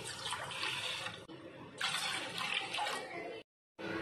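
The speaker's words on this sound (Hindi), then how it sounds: "सबसे पहले हम इसमें दो गिलास पानी लेंगे।" Two glasses of water pour into a pot for a homemade drink, a close splashing rush that runs in two bursts, pauses briefly and starts again.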